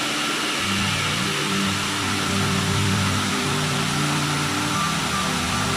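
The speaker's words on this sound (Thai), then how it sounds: "สายน้ำลำธารข้างล่าง" Loud, steady rushing of a stream flowing strongly below, a constant broadband roar with no voices.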